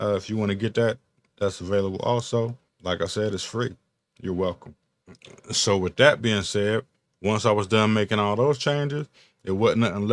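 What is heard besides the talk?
No everyday noises stand out.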